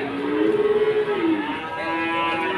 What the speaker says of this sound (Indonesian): Nah, ini ada Mas Ali lagi sibuk pasang tali keluh salah satu sapi simet limusin seperti ini